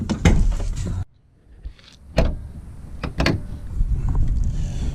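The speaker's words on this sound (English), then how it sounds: "let's pop the hood on this thing." Car hood being popped open on a Cobra kept in storage, a sharp latch clunk followed by a few metallic clicks and a second thump, close and distinct against a quiet garage.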